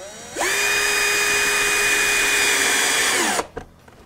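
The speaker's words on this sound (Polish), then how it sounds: "przy pomocy śrubokręta lub zwykłej wkrętarki możemy spokojnie wykorzystać ten wkręt, który jest w zestawie" A cordless screwdriver drives a kit screw while connecting Qbrick QS Two and QS Pro pieces, giving one loud, steady whirring whine of about three seconds that cuts off abruptly, followed by a faint click.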